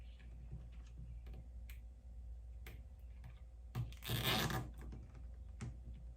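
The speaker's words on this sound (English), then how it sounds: "We're just gonna run the wire, zip ties through." Zip ties ratcheting tight around wiring on a 2023 Indian Roadmaster motorcycle, a quiet scattering of small clicks followed by one brief, louder zipping rasp, heard close against a low background hum.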